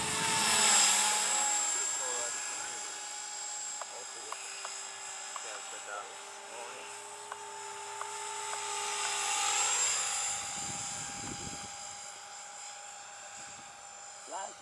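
A Blade 300X RC helicopter flies nearby, its high whining rotor drone rising and falling as it passes, with people talking over it and a few clicks.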